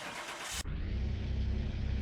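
In a car mechanic video game, a brand-new Mercedes-Benz engine cranks and starts after a short burst of hiss, then settles into a low, throbbing idle that carries on steadily, close and alone.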